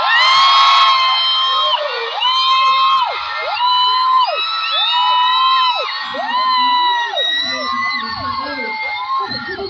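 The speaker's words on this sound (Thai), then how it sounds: "ถ้าเกิดว่าทุกคนเสียดายเหมือนกันช่วยกรี๊ดหน่อยได้ไหมคะ" A festival crowd at an aespa set during Sound Check Festival 2023 in Thailand screams and cheers loudly. Long, high, wavering shrieks overlap and sweep up and down continuously, close and intense.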